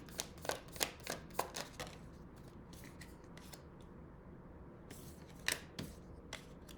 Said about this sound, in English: I'm getting a lot of cards flipping in the deck while I'm shuffling.